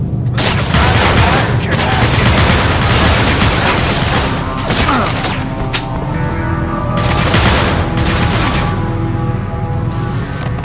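Assault rifle fire in Manhunt 2, PS2 Adults Only build: loud, close, dense, sustained bursts of shots with heavy booming impacts, almost continuous, no talking.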